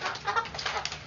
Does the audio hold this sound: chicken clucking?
yes